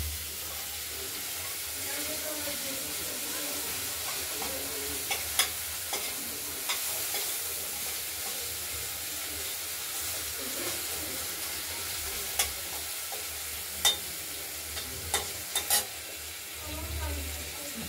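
Ground spice paste for a rohu fish curry frying in oil: a steady, fairly quiet sizzle and hiss throughout, broken by scattered sharp clicks and scrapes of stirring.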